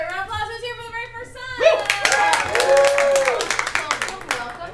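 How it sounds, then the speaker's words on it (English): Audience members at a comedy theatre break into a round of applause, scattered claps quickly thickening into steady clapping, while a host keeps talking above it. "By round of applause, who's here for the very first"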